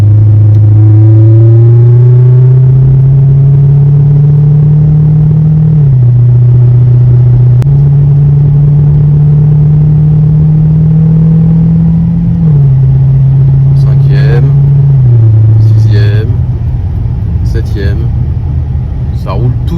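A customer's car cruises in seventh gear with a loud, close, steady low engine rumble that drifts slightly up and down in pitch, while a few brief voice sounds break in near the end.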